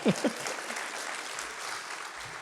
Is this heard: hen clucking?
no